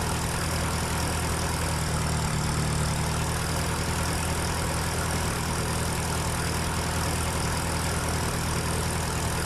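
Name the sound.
tractor engine idling in the video game Farming Simulator 2013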